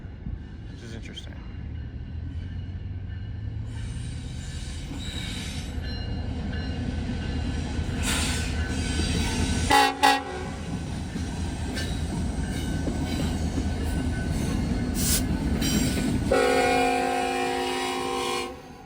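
A 3,700-foot freight train with four diesel locomotives, including an ET44, rumbles past nearby with heavy engine drone, rolling wheel clatter and a loud horn blast, with people talking over it.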